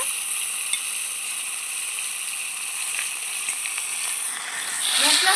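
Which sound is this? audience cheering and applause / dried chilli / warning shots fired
dried chilli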